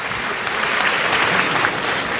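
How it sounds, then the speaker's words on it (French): A studio audience applauds a guest minister on a French-language political broadcast, dense and steady clapping throughout, loud and close. "Je vous demande de l'applaudir, s'il vous plaît."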